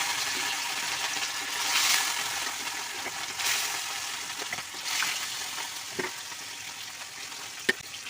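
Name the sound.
fish frying in hot oil in a wok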